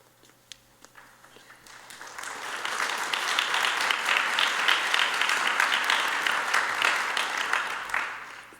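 Audience applause swells from a few scattered claps into sustained clapping from a large crowd, then starts tapering off, at a high school National Honor Society induction ceremony.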